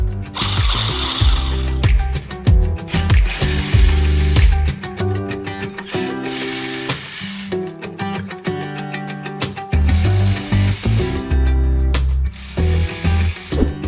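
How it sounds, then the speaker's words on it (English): An impact driver tightening bolts on a steel pallet rack upright frame, loud repeated bursts of rattling hammering separated by short pauses, close and with no talk. "go back and tighten everything with your impact driver"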